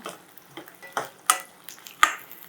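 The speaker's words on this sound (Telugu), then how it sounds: "నూనె కాగింది పచ్చిమిరకాయలు వేసుకున్నాం" Green chillies frying in hot oil in a pan for a Telugu pakodi curry, a soft sizzle broken by a few sharp stirring scrapes and clinks, close and fairly quiet with no talking.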